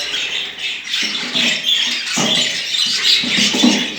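Caged budgerigars chirp and squawk in a busy overlapping chorus, the shrill calls coming in quick bursts close by with small rustles among them.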